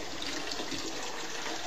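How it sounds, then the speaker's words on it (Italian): Village fountain water running steadily, a broad continuous splashing rush, close and alone for a short moment. "Qui sulla destra una fontana"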